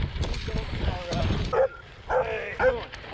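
Dogs barking and yipping while chasing a cyclist outdoors, several close, sharp barks in quick bursts over road and wind noise, with a person speaking at the start.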